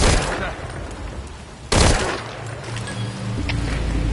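A burst of rapid gunfire cracks out in the video game Metal Gear Solid Ground Zeroes, followed by a quieter stretch with scattered noise and a low rumble.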